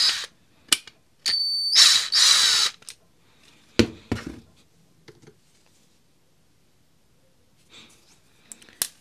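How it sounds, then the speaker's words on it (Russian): Power drill or screwdriver briefly unscrewing a self-tapping screw from a Makita ADP10 adapter, a few short whirring bursts near the start followed by small clicks and handling noises, then near quiet. "Далее откручиваем саморез 3 на"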